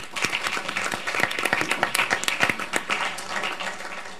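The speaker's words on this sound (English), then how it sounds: "Can we give them a round of applause," A council meeting audience gives a round of applause, a moderate, uneven patter of clapping hands in a hall that sustains for several seconds without speech.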